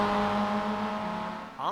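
Spec Miata race car, a Mazda Miata, holding a steady high engine drone on track as it climbs a hill into a sharp left-hander, loud and close throughout, easing slightly near the end.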